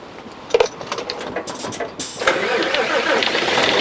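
An Isuzu Gala coach bus engine cranks and fires, then settles into a steady, loud running rumble after about two seconds, heard close by.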